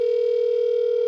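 A steady telephone dial tone sounds right after a caller's line drops on a phone-in show, one continuous unbroken hum held at even loudness with no voices over it.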